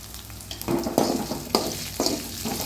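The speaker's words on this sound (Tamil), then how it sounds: "இப்போது 3 பச்சை மிளகாய் நீட்டாக கட் பண்ணி வச்சுருக்கேன், அதை சேர்க்குறேன்" Long-slit green chilies sizzle in a pan with ginger and garlic as they are stirred. A steady frying hiss swells with each push of the spoon, close and loud.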